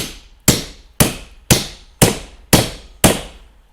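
Seven evenly spaced, sharp metallic hammer blows, about half a second apart, driving a bearing cup out of the front hub of a 1948 Farmall Cub tractor, loud and close with each strike ringing briefly before the next.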